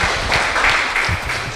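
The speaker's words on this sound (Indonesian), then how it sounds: "Iya, tepuk tangan." Applause from an audience at a school ceremony at SMKN 1 Plosoklaten, a steady wash of clapping lasting the whole clip at moderate level.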